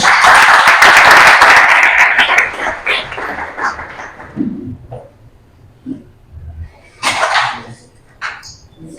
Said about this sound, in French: je vous demande d'applaudir très chaudement.